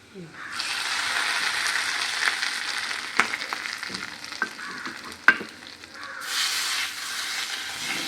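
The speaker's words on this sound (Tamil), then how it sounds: "மிளகு தெரிக்கும், பார்த்து." Peppercorns splutter in hot fat with cashews while tempering for pongal: a bright, steady frying hiss sets in, broken by a few sharp pops and crackles, dips briefly, then surges again near the end.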